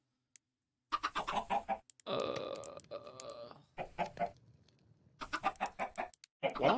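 Minecraft chickens clucking in short bursts with gaps of silence between them, close and fairly quiet, with a few separate clucks spread across the stretch.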